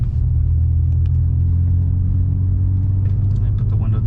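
A BMW E46 fitted with two cherry bomb glasspack mufflers accelerates in third gear, giving a loud, steady low exhaust drone heard from inside the car, with someone talking over it.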